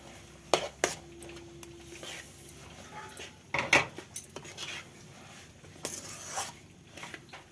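Roasted sesame seeds go a little at a time into a pan on low flame for sesame ladoos, heard as quiet scraping and several clinks of a utensil against the pan, close and alone.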